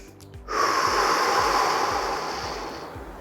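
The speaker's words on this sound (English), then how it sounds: "taking in a deep breath and exhaling" A deep breath is drawn in and slowly let out during a relaxing body-scan breathing exercise, a single long, close airy exhale that swells quickly and fades gradually, with no talking.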